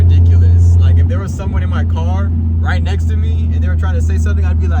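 Inside a BMW 340i with a big turbo and a homemade exhaust dump, a heavy low exhaust drone hums steadily, loud and constant beneath someone talking.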